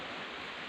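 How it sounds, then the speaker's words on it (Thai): Light rain falling steadily outside a house, a soft continuous hiss with no other sounds over it. "ฝนตกนิดหน่อยนะครับ"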